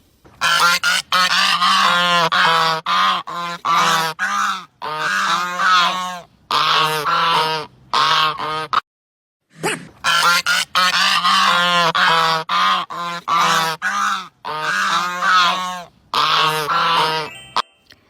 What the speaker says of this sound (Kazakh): Бұл қаз. Үлкен үй құсы. Қатты және ұзақ шақырады.